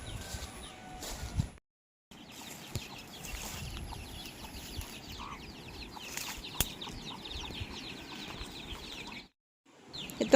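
Faint, scattered clucking from chickens on a small farm, with soft rustling and wing sounds and a couple of brief silent gaps.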